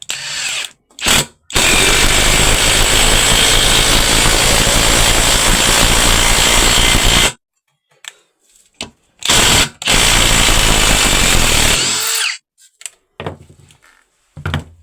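A Procraft PS 22 impact driver drives a long screw into wood in a loud, close burst of hammering whir lasting several seconds, followed by short stop-start bursts as the screw is finished off.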